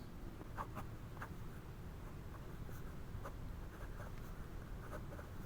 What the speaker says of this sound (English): this thing is just gliding across the paper